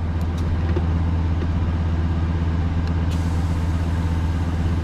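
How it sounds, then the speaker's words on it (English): Truck engine running at idle, a steady loud low rumble with a regular pulsing throb throughout, close up, with faint light clicks and no talking. "Here's with the truck running."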